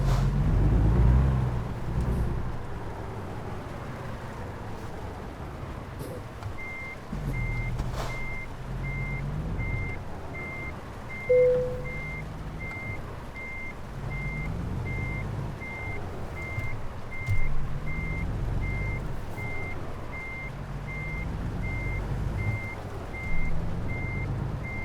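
In American Truck Simulator, a truck reverses with a steady series of evenly spaced high backup beeps over a low diesel engine drone that swells and eases as it maneuvers.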